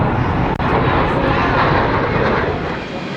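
A military jet in afterburner at the Wings Over Houston 2024 air show, a steady, loud, broadband roar dominating the short stretch with a sharp click early on.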